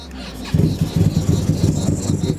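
A QJ SRV V-twin motorcycle engine catches and starts, settling into a rapid, throbbing idle close by.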